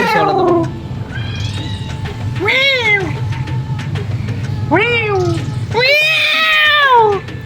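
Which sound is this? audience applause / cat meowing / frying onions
cat meowing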